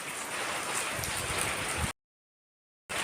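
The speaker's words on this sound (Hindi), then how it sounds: "5-6 बजे से बारिश हो रही है।" Steady morning rain falls as a dense, even hiss for about two seconds, cuts to silence, then resumes briefly.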